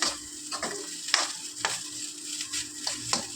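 Egg fried rice stirred in a pan with a spatula, a steady low sizzle under repeated scraping strokes and a few sharper clicks of the utensil against the metal, close and alone.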